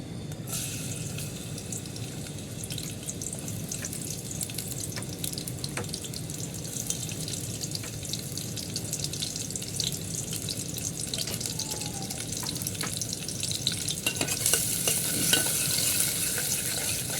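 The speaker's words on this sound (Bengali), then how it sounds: "তেল গরম হয়ে গেছে এখন পেঁয়াজ কুচি দিয়ে দিব" Chopped onions frying in hot soybean oil, a steady sizzling hiss running throughout with occasional stirring clatter, close and alone.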